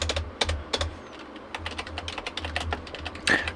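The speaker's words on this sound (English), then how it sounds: "Gotta put typing skills to work here." Fast typing on a computer keyboard, a run of close, crisp key clicks in an uneven rhythm with a few louder strikes, heard alone without any talk.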